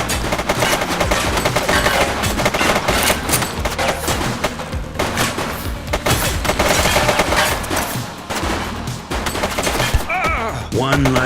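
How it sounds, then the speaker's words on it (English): Heavy, rapid gunfire rattles almost continuously in a police action game set in The Precinct, bursts of automatic fire overlapping with thuds and impacts, loud and close throughout. "He's shooting!"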